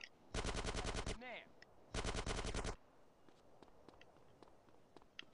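Two bursts of rapid pistol fire in GTA San Andreas on Android, each a dense loud rattle of shots lasting under a second, separated by a short pause, then quieter footsteps and faint clicks.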